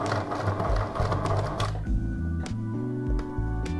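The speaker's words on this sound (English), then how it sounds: "just a couple of stitches, then you press C and it starts sewing back down" A Pfaff Tipmatic 6122 sewing machine stitches a buttonhole, a steady close mechanical whir of rapid stitching that shifts pace partway through, with a few sharp clicks over the motor hum and no talk.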